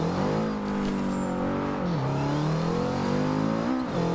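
A car engine in a Forza racing game revs hard, its pitch sweeping down and climbing back up through shifts, loud and continuous with a turbo-like whine on top.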